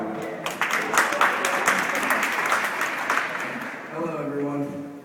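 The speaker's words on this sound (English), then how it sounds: "Big round of applause for Parker, everyone" Wedding guests applaud as the best man is called up for his toast, a dense, steady clapping that swells and holds, with a voice beginning to speak near the end.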